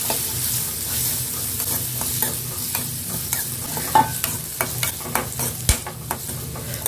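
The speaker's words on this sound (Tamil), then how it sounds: "பொடியாக நறுக்கிற அரசாணிக்காய் ஒரு கப் நல்லா வதக்கிக்கலாங்க எண்ணெயில்." Finely chopped yellow pumpkin sautés in hot oil in a kadai over a slow flame: a steady close sizzle, broken by repeated scraping clinks of a stirring spoon against the pan, with no voice.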